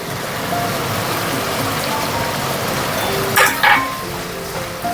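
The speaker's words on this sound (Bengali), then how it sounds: "একটু কর্নফ্লাওয়ারের জলটাও দিয়ে দেবো এর মধ্যে।" Cornflour slurry poured into chilli chicken sauce in a hot pan, raising a steady close sizzle with a couple of brief, sharper bursts near the end.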